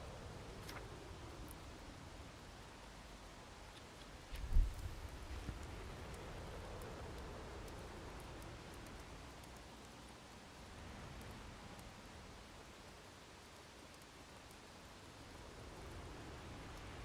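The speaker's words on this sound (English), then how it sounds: "I'd say the rain's worse than the actual temperature because you get twice as cold when you're wet." Steady rain falls in the Hobo Tough Life game as a continuous broad hiss for the whole stretch, with one dull thump partway through and no talking.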